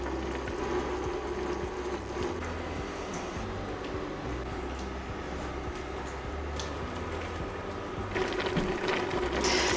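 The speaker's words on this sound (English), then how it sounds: "we're going to bring them to the boil, and we're going to let them boil till they're just cooked" Potatoes boil in a pot of water, a steady close bubbling and rolling hiss that holds constant, growing slightly more vigorous toward the end.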